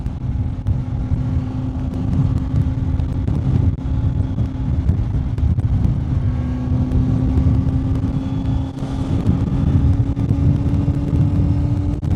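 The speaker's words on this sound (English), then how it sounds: "So the wind definitely overloads the sound of the exhaust." A Kawasaki Z900 fitted with a Leo Vince GP Corsa black slip-on exhaust cruises in sixth gear around 4,000 RPM, a steady low engine drone heavily masked by constant wind buffeting on the microphone.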